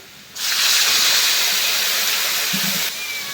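Water splashed into a pan of hot frying oil with onions and salt bursts into a loud, sustained steam hiss lasting a few seconds, then cuts back to a quieter background.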